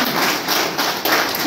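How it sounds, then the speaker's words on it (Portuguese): An audience at a meeting gives Dr. Alves a round of applause, dense steady clapping filling the room for a moment, with a voice faintly underneath. "Uma salva de palmas para o Dr."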